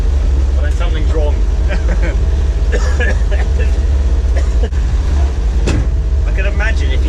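An early Land Rover rolls along a road, its engine drone and rattling cabin noise loud and constant throughout, with someone talking over the ride from inside.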